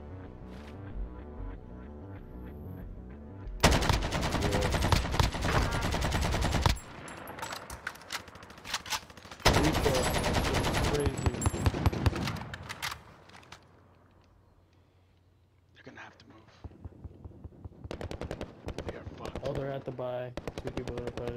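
Gunfire in the Warzone video game, loud bursts of automatic fire and single shots in several clusters with brief quieter gaps, a voice speaking between them.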